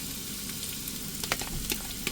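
Onion and garlic fry in hot oil in a pan for red lentil dal, a steady close sizzle with a few sharper crackles and pops as the pieces spit.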